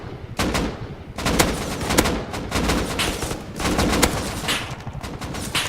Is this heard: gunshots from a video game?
yes